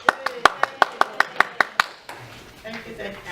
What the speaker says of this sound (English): And I'll provide the applause.